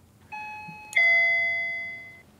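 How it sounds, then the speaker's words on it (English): A doorbell rings inside the video game Parasocial. It gives a clear two-tone ding-dong, with a first chime and then a louder second tone that rings out and slowly fades, with no other sound around it. "Is that the doorbell? Yes, that was definitely the doorbell."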